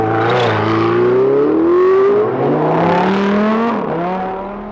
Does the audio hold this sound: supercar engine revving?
yes